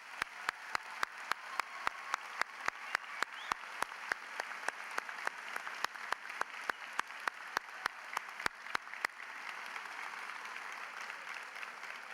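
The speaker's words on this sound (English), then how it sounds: "Members of the audience, please join me with applause to recognize the accomplishments of this wonderful class." Applause from a high school graduation crowd, steady and moderately distant, with sharp regular clicks running through it until the clapping thins out near the end.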